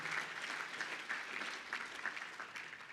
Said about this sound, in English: A big round of applause for our sponsors whose generous contribution and partnership.